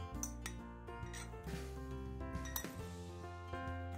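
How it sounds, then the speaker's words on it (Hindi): Oats go into a blender jar for a breakfast smoothie, giving faint light clinks and rubbing against the jar over a steady bed of background music. "अब हम बारी बारी ये सब चीज़ें ब्लेंडर में डालते जाएंगे।"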